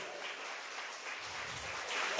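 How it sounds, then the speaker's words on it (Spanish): Congregation in a church service clapping together as an offering of applause, a dense steady wash of hand claps at moderate distance, swelling slightly toward the end. "Puede darle una ofrenda de aplausos al Señor."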